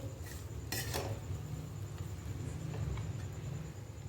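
A spoon or spatula scrapes and clinks against a pan while policha chivda is mixed with coriander, with a few sharp metallic taps early on and then soft, steady stirring over a low background hum.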